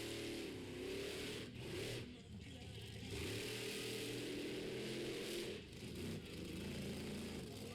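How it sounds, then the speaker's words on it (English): A monster truck engine revs loudly at a Renegade Monster Truck Tour show, running in a steady, rough mid-pitched drone with brief dips and surges, close and dominant throughout. "This truck sounds terrible."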